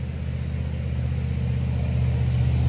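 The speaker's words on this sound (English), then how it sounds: "That sounds like my husband's truck." A truck engine rumbling steadily on a home driveway, a low droning idle that grows slightly louder toward the end, with no talking over it.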